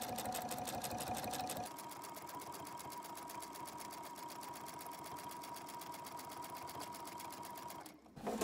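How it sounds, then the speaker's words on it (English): A sewing machine stitches binding along the edge of a quilt in a steady, fast mechanical whir, loud and close. It runs continuously with a brief pause and restart near the end, and no talking is heard. "you just sew straight on."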